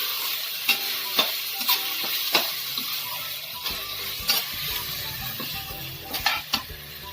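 Spices and red chili sauce stirred in a hot pan: a low sizzle under repeated sharp clinks and scrapes of a spoon against metal, close and irregular, no talking.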